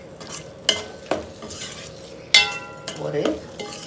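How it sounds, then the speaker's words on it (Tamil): Soya chunks being stirred into thick masala gravy in a pan, with a few sharp spoon-on-pan scrapes and knocks over a soft sizzle, close and fairly quiet, no talking. "இப்போ இதை நல்லா மிக்ஸ் கொடுங்க"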